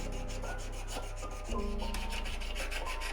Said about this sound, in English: I am just gently guiding the sharp edge of the tool along the grain of the wood and let gravity do the rest